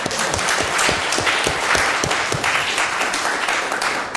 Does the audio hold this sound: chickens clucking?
no